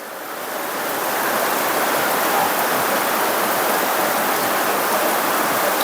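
Heavy October rain pours down in a dense, continuous hiss that swells in over the first second and then holds loud and steady.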